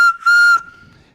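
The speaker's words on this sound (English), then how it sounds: "I'm holding a Brian Kershaw whistle. Good luck whistle" A good luck whistle shrills loudly at close range in two blasts, a short one and then a longer steady one, followed by a faint rustle.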